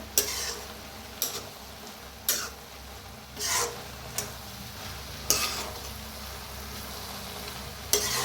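Fresh peas cooking in a pan are stirred with a utensil, giving a few sharp scrapes and clinks spaced a second or two apart over a faint, steady background, close by with no voices.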